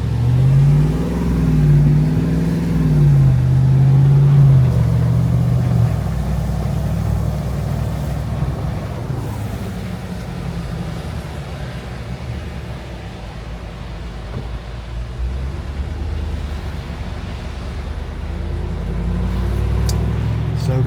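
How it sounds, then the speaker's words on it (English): Cars drive past on a flooded beach road as Hurricane Helene strikes, a steady low engine rumble with tire and water wash passing close, the sound swelling and fading over a continuous noisy background. "So, lots more traffic going on than there was earlier."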